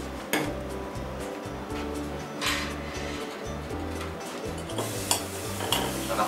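Brown sugar heating in a hot pan on the stove for a toffee sauce, with a steady low sizzle and a few clinks and scrapes of utensils against the pan.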